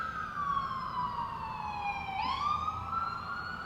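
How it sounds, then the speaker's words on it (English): Emergency vehicle siren wails steadily in the background, its pitch sliding down then sweeping back up, over a low room hum during a sunset Pilates workout with a mini stability ball. "Got some nice sirens in the background."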